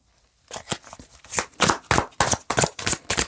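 Oracle cards shuffled by hand, a rapid series of crisp riffling and slapping bursts close up after a brief quiet start, with no talking.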